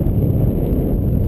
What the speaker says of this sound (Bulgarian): защото духа вятър